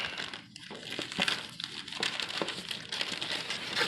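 Crinkling and crumpling of packing material and tape as a professionally packed, taped-up comic book package is opened, with steady rustling and a few sharper tearing bursts throughout.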